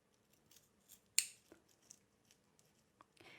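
Scissors cutting through a saran wrap armor pattern, a few faint, close snips and crinkles with one sharper cut standing out in a quiet room.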